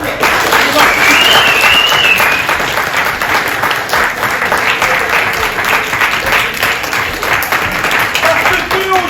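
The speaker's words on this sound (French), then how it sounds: "Cher public, nous pouvons déjà applaudir de manière très forte" An audience at a school short-story prize ceremony applauds the artists, loud, dense clapping from a crowd that runs steadily for several seconds, with a voice heard over it early on.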